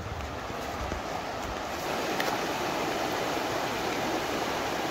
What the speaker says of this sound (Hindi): नदी किनारे की आवाज सुनो, नदी की आवाज कितनी मस्त आ रही है ना